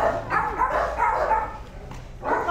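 Several dogs bark close by in short, overlapping bursts of yaps and yips, with a brief pause before another loud round of barking.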